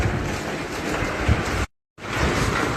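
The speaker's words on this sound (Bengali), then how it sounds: "উপরে টিনের চালে বৃষ্টি পড়তেছে।" Rain drums on a tin roof in a steady, dense patter that fills the clip, broken by a short silent gap partway through before the same downpour resumes.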